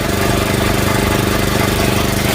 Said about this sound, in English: basically our motor turns